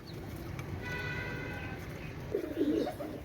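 Pakistani Teddy pigeons coo at a crowded pigeon fair, a low throaty burble swelling near the end over steady market murmur and a faint high chirping.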